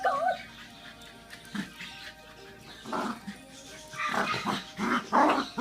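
A dog at play barks and growls in rough, irregular bursts that grow louder toward the end, with people talking and exclaiming through most of it.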